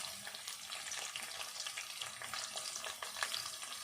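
Sliced onion frying in hot oil with curry leaves for an old-style raw fish curry, a soft steady sizzle with crackling pops and occasional stirring scrapes, faint and close, with no talk.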